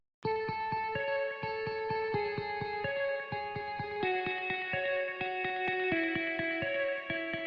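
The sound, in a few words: guitar melody in progressive house track, FL Studio Mobile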